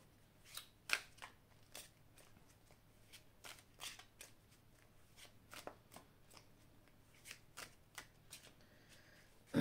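Tarot cards being shuffled by hand, a faint, close series of quick papery riffles and flicks in irregular bursts over near silence, without speech.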